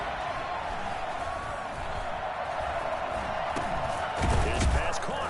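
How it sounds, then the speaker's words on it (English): Crowd noise from a PS5 American football video game during a Jets at Dolphins matchup, a steady roaring stadium wash that swells briefly with a thud near the end while a commentator talks over it. "the crowd getting into it as we come up on a big third down"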